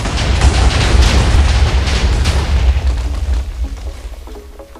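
A loud, sustained booming Minecraft explosion roars continuously with dense rumbling low end and crackling debris, slowly fading toward the end.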